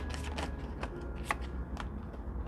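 Tarot cards are riffled and shuffled up close, a quick series of soft papery flicks and snaps at a brisk irregular rhythm, fairly quiet with no talking.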